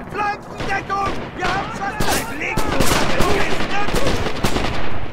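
Sustained full-auto weapon fire in the World War II shooter Red Orchestra 2, rapid bursts of shots rattling on through the whole stretch alongside other battlefield gunfire, with a voice speaking underneath.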